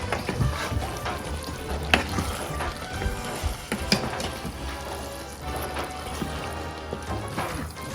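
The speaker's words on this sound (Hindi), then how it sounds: "इससे अच्छा सा मिक्स कर लें." A spoon stirs and scrapes through thick spaghetti sauce in a pot, with steady clinking and wet churning sounds running continuously, a few sharper taps standing out near the start and middle.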